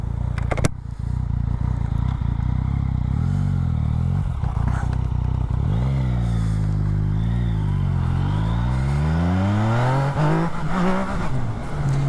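A 2019 Yamaha XSR900 motorcycle pulls away with traction control mode 2, its engine note climbing in a wavering series of revs that rise, dip and rise again as the throttle is wound on, loud and close.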